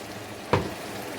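Lamb mutton dropped into hot oil with tempered spices for a Pakistani matar gosht curry, a sudden loud sizzling burst that quickly settles into a softer crackle.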